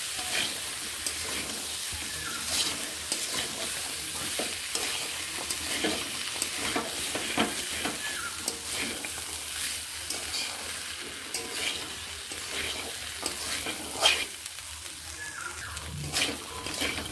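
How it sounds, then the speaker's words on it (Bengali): Ghugni masala with peas being stir-fried in a pan, with a constant sizzle and frying hiss under repeated scraping and stirring clatter from a spatula, close up, with no talking. "মটরগুলো দেওয়ার পরে আমি আরও 30 থেকে 40 সেকেন্ড এইভাবে কষিয়ে নিচ্ছি।"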